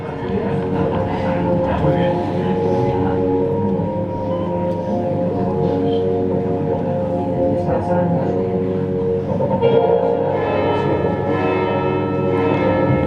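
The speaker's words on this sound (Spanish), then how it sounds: "Las campanas no las he puesto yo, están sonando." Church bells in Cartagena ring steadily and loudly throughout, their tones layered and sustained, with a faint hum of voices or background activity beneath.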